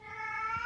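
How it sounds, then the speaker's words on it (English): A single drawn-out cat meow, close and moderately loud, with a rising tonal whine. "sorry about my cat."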